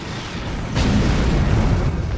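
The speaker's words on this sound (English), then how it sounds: "The heralds are firing on the portal!" Herald ships firing on the time portal in Star Trek Online, a loud, dense rumbling barrage that swells into a heavy sustained roar.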